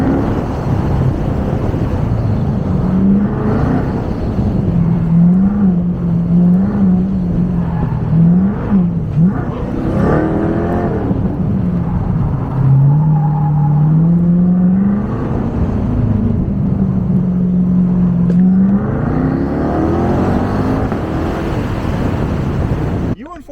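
A C8 Corvette runs an autocross course, its engine rising and falling in pitch as it accelerates and brakes through the turns, loud and close throughout, with voices talking over it.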